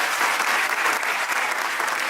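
Audience applause at a live talk: a loud, dense wash of clapping, steady and close throughout, with no voices over it.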